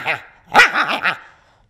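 A man imitates two dogs fighting and barking: a short yelp, then a burst of rough, overlapping barks and snarls, loud and close.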